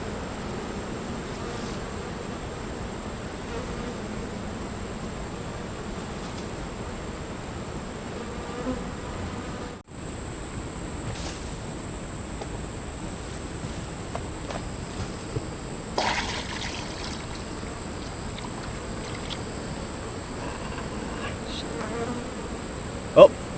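Honeybees from a hungry backyard hive being topped up with sugar water buzz steadily and close by, a dense continuous drone with a few soft knocks and taps, and no talking.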